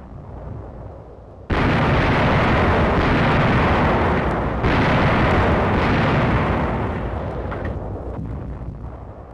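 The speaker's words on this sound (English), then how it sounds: "Enemy shellings are countered by our fire from tank 75." Tank cannon fire and enemy shelling explosions near Massa, Italy, during 1945 wartime combat: a sudden loud blast opens a long roaring, rumbling barrage, with a second heavy boom halfway through, then a slowly fading roar.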